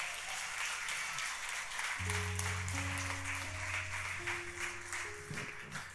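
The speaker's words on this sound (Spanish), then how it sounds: "Dale un aplauso a Dios en esta hora" A congregation claps during a church sermon, moderate and steady, while sustained keyboard or organ tones enter partway through and continue under the applause.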